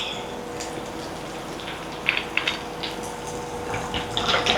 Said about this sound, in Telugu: వాటర్ పోద్దాం.